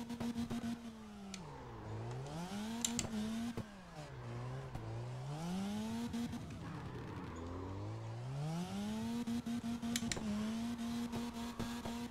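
Mad Bull RX drifting through the evening streets of TRC Ikebukuro in CarX: a loud, close engine rises and falls in repeated revving sweeps, with tire squeal and skid noise, and sharp shifts between the revs.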